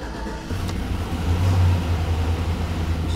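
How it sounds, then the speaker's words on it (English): Chevy Tahoe, 2000 to 2006 model, first start after its timing cover was replaced. The engine catches and settles into a loud, steady, close idle with a brief rise in rumble partway through. "So this is the first time starting."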